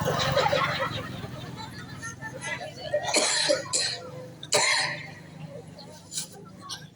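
A person coughs a few times during a sermon in Gorontalo, Indonesia, with sharp, harsh bursts breaking through nearby talk and background chatter.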